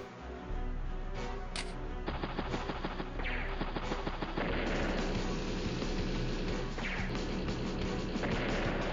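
Units firing in the Advance Wars: Days of Ruin video game, a dense run of layered battle effects, gunfire and booming impacts over game music, loud and continuous.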